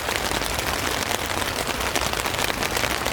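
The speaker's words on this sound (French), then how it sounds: "Il est en train de pleuvoir à fond de balle." Heavy rain pours steadily on a stormy day during a bicycle journey across Morocco, a dense, loud, unbroken hiss that fills the whole stretch with no voices.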